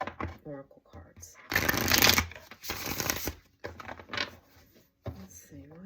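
Tarot Your Way tarot deck being shuffled by hand, a few dense bursts of riffling cards lasting about a second each, close and fairly loud, with a person talking softly between them.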